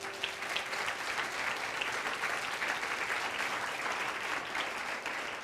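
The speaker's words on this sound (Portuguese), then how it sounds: "Dá um aplauso a Jesus." A church congregation claps together in a steady, dense burst of applause that holds at a constant level throughout.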